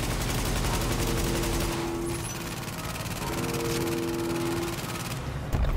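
Turret gunfire in a video game: a continuous rapid fusillade of shots, loud and dense, running almost unbroken with brief tonal whines layered over it and a sharp thump at the end.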